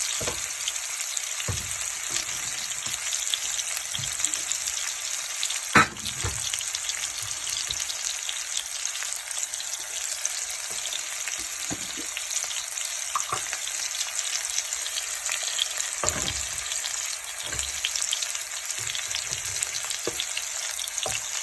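Hilsa fish seasoned with salt, sliced chilli and turmeric fries in a pan with no added oil, giving a continuous bright sizzle broken by occasional soft stirring knocks and clinks.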